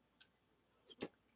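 People chewing black-eyed peas: two brief, soft, crunchy bites, faint and close, with quiet pauses between.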